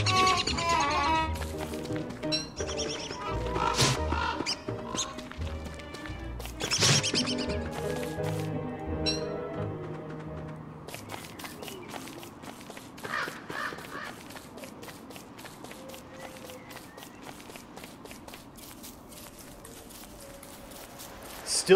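Bird caws and calls from the survival video game Don't Starve, scattered through a busy game soundtrack with occasional clicks and effects, no speech heard.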